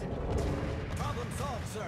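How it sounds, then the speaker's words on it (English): Muffled anti-aircraft gunfire rumbles in a video game, low booming bursts blended into a continuous din with faint tonal battle sounds. "Provide anti-aircraft fire support."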